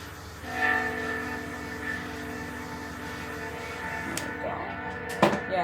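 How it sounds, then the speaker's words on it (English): A train rumbles past close by, a steady loud roll with clanking, then a brief horn blast near the end. "Yes, I live by a train track."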